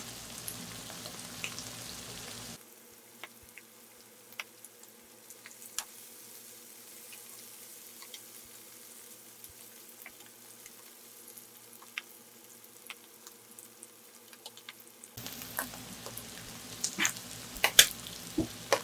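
Butter garlic mushrooms frying in a pan, a steady soft sizzle with occasional light pops and stirring clicks, louder at the start and end.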